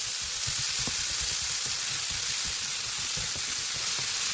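Chopped onion and garlic frying in hot tempering oil in a pan, a dense continuous close sizzle with faint stirring taps, steady and loud throughout, no talk.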